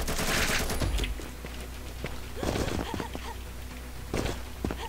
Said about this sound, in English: Actually this is the perfect test of the shotgun.